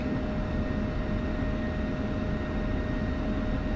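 F-16 jet taxiing in the DCS flight simulator game near Nellis AFB, a steady droning engine hum with a constant whine, even and unbroken throughout.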